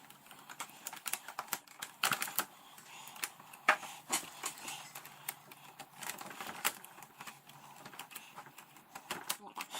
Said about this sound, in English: So we're going to have to press those in and pull the keyboard out.